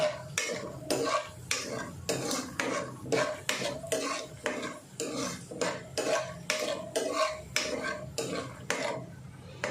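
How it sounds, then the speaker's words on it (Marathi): Peanuts roasting in a kadhai for kande pohe, stirred with a utensil in steady rhythmic strokes, about two scrapes per second, close and moderately loud with no talking. "आता शेंगदाणे भाजायला लागले"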